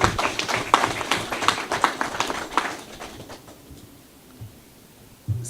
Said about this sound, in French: Je demande à l'assistance de les applaudir.